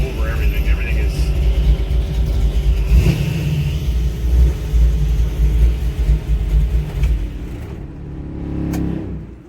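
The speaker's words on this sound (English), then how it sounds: "I hear the little bit of rattle on the exhaust." A car engine revs loudly and unevenly up close, rising and falling through several pulls with a rumbling exhaust and a slight rattle, someone talking over it before it settles toward idle.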